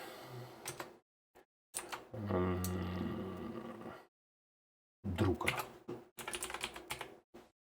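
Computer keyboard keys tapped in quick bursts while entering text in Fusion 360, separated by short silences, with a voice talking in between.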